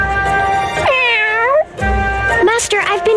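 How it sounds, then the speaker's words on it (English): A cat in the video game Bravely Second meows several times, giving close, clear, drawn-out cries with a short break between calls. "what's with the cat?"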